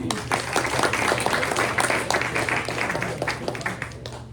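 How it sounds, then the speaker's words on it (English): Lunch crowd at a San Marcos area press luncheon giving a brief round of applause, dense steady clapping close and loud, tapering slightly at the end. "let's give them a quick round of applause"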